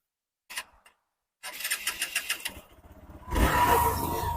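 A 2024 Hero Xpulse 200 4V motorcycle cranks over with a rapid whirring starter after a brief click, then catches and settles into a loud, steady idle up close.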